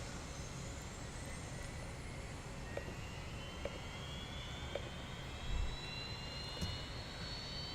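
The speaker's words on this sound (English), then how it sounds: "Starting engine 2." An Airbus A320 engine in the X-Plane flight simulator spools up, a steady jet roar with rising whining tones climbing gradually and a few faint clicks, with no voices.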